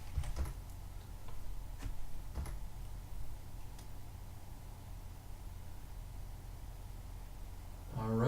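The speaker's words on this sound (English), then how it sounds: "now I can again type in my address" Someone types an address on a computer keyboard: a few faint, sparse key clicks sound over a steady low background hum, then a louder shuffle at the very end.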